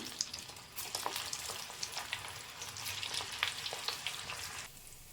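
Andhra-style chicken pakoda frying in hot oil gives a close, continuous crackling sizzle full of sharp pops that eases off near the end, with no voices.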